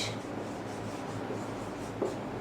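Marker or chalk writing on a board, a faint soft scratching and rubbing with light strokes and a small tap near the end, quiet and without talk.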